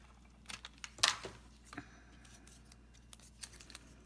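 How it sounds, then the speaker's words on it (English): Scissors snip through excess paper scrap while layering a Valentine paper-craft piece for a mason jar, a short burst of crisp cuts near the middle followed by a few faint later snips, close and quiet, with no talking. "cut off the excess with my scissors"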